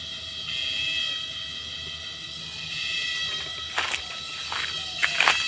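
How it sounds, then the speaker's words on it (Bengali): Crickets chirp in the trees around a village, making a continuous, faint, high-pitched drone. A few sharper clicks and buzzes rise near the end. "আর ওইখানে ঝিঝি পোকা ডাকতেছে গাছের মধ্যে"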